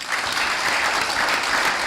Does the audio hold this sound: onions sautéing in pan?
no